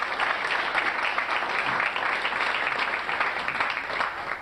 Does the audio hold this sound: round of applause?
yes